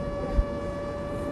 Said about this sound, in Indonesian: Nah, suara drone-nya kedengaran.